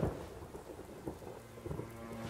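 Heavy rain pours steadily with low rumbles of thunder beneath it, a continuous wet wash with a few louder swells and no voices.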